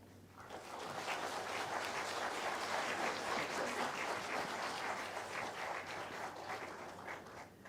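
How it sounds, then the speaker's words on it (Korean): Congregation applauding at a church elder ordination service, sustained clapping from a crowd in an indoor hall, rising quickly and holding steady for several seconds before tapering. "다시 한번 박수로."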